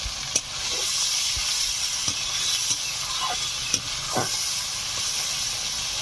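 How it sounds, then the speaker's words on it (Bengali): Masala frying in a pan after a splash of bowl-rinsing water, a steady loud hiss and sizzle with a few faint clicks of stirring. "সামান্য একটু মশলার বাটি ধোয়া জল দিয়ে দিলাম"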